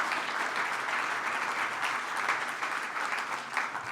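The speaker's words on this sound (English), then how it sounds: "maybe another round of applause, please, for the crew" An audience at a venture-science talk gives the crew a steady round of applause, dense clapping sustained at even strength throughout with no speech over it.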